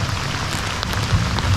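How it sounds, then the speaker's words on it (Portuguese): Heavy rain falls steadily on the Aquidauana river, a dense, even hiss of drops close by with no voices over it. "Mas agora parece que essa chuva vai continuar"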